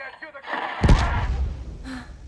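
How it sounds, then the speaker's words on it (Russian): An explosion in The Last of Us bursts out as a loud low thud, with a rumbling tail under a voice talking over it. "Взрыв!"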